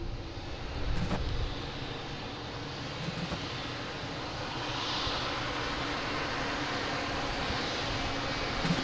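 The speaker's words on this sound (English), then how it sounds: "All right, we got this JetBlue coming in here." A JetBlue jet arrives at Boston Logan International Airport with a steady, broad engine roar and rushing air. The sound holds at a constant moderate level, with a few brief knocks near the start and no talk.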